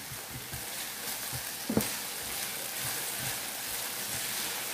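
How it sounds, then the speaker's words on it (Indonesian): Onions sauté in a pan for homemade teriyaki chicken, a continuous crackling sizzle with a steady hiss and a few soft stirring knocks near the middle, close up and without talk. "Kita tumis sampai bawangnya layu dan harum."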